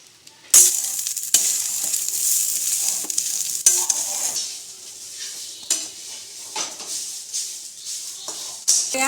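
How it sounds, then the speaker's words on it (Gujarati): Grated coconut roasts in about a spoonful of ghee in a pan, with a soft frying sizzle broken by repeated scraping strokes and light metal knocks as a spoon stirs it close by. "લોયામાં 1 ચમચી જેટલું ઘી છે તેમાં આપણે આ છીણ ઉમેરી દઈશું।"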